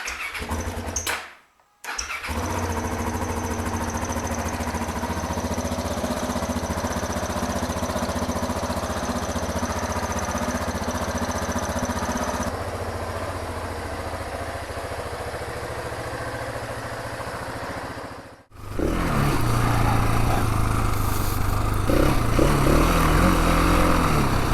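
A Suzuki DR650 motorcycle engine runs in a steady, close, rumbling idle for a long stretch, with two brief cutouts to near silence before it picks up again.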